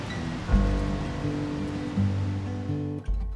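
Ocean waves at Devil's Slide in Pacifica wash in a steady broadband roar, loud and continuous, with a low droning tone running under the surf.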